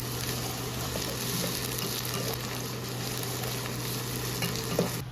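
Ginger garlic paste fries for mutton keema with a continuous loud sizzle and bubbling hiss, occasional soft stirring scrapes, and a steady low electrical hum underneath.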